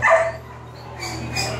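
Several puppies in shelter kennels yip and bark in short high-pitched bursts, close by, with a faint steady hum in the background.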